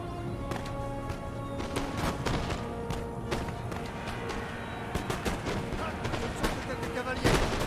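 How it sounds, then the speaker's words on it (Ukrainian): Rapid, overlapping musket shots crackle in ragged volleys during a line battle in a Total War video game's Battle of Waterloo, a dense din of gunfire that keeps going without pause. "Розпочався мушкетний лінійний бій."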